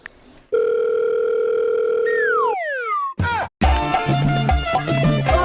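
A telephone call connecting: a steady ringback tone, then descending warbling electronic tones, a brief gap, and a burst of ringtone music, loud and close with no talk.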